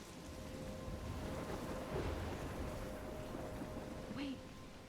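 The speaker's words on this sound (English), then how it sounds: "I'm trapped in a storm?" Stormy weather in the Life is Strange video game: a steady, loud rush of wind and rain fills the whole stretch, with a low rumble of thunder underneath and a faint tonal hum throughout, with no voices.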